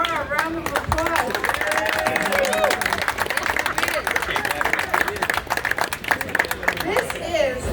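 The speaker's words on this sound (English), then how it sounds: "Let's give Lloyd and the bar a round of applause." Lively applause and cheering in a crowded tavern celebrating its 190th anniversary, dense rapid clapping that carries on steadily under loud crowd chatter and shouting voices.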